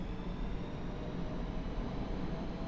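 F-5E jet engine in the DCS flight simulator spooling up as the throttle comes forward for taxi, a steady broadband roar with a faint high whine, constant and unbroken throughout.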